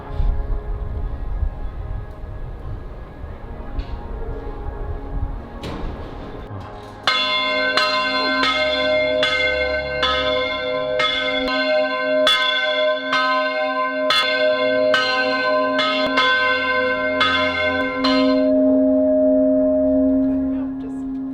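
Church bells ring out at noon from a bell tower in Split, Croatia, starting after a few seconds of quiet street ambience with a steady, evenly spaced series of loud, resonant strikes that hum on afterward.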